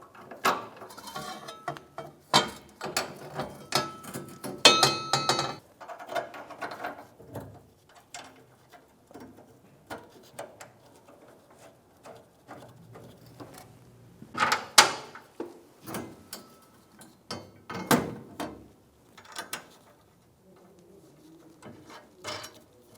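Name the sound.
nut being tightened onto gas tank strap bolt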